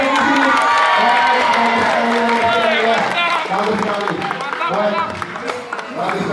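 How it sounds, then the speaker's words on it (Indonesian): Audience at a live performance of walking on broken glass breaks into sustained cheering, shouting and applause, loud and continuous throughout, with children's voices audible in the crowd. "kita kasih aplaus"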